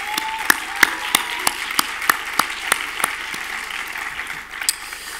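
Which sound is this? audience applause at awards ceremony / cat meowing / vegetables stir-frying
audience applause at awards ceremony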